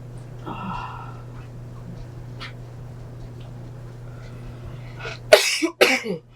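Two loud, harsh coughs burst out close by near the end, following a quiet stretch with a low steady hum, from someone in the middle of a watercolor painting session.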